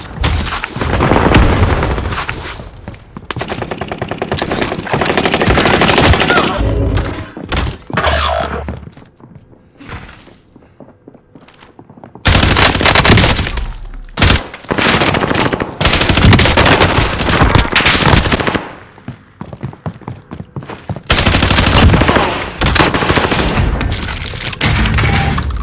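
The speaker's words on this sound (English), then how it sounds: "taking heavy fire." Heavy automatic gunfire and booming explosions from a Call of Duty Warzone match on Rebirth Island, loud bursts of machine-gun fire in dense volleys with brief lulls, close and intense throughout.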